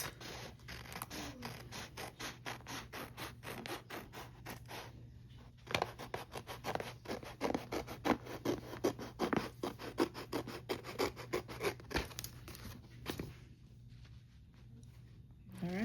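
Scissors snip through a notebook cover sheet in a run of quick, rhythmic cuts, close and fairly quiet, with brief pauses between bursts and a steady low hum beneath.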